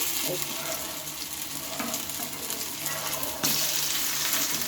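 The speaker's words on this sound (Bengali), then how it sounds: "এবার অপর সাইডটাও ঠিক একইভাবে আমি ভেজে নেব বা উল্টে নেব" Stuffed brinjal puri made with eggplant and potato fries in hot oil in a pan, giving a steady, dense sizzle throughout that grows slightly louder near the end, with no talking.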